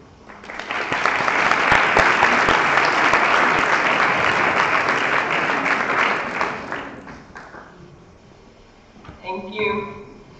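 Sustained applause from a congress audience after a motion is carried unanimously, loud and steady for several seconds before fading out, followed by a brief voice.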